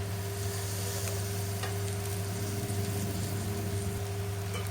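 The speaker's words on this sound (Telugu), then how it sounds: "నూనె పైకి తేలే వరకు ఫ్రై చేసుకోవాలి" Chicken pieces frying in oil in a pan for an Andhra-style chicken fry, with a steady, close sizzle that runs without a break and a constant low hum underneath. No one speaks.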